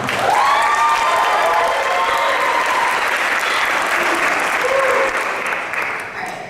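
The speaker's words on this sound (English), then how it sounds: "So another round of applause for him." Applause for a speaker at a 2014 Middle States Academy & Honors Institute event, loud, close clapping from a crowd with a few cheers and voices mixed in, holding steady before tapering off at the end.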